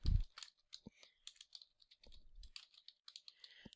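Quiet, close keyboard typing in irregular bursts of light clicks and taps on a computer keyboard, with a soft thump at the start and no speech.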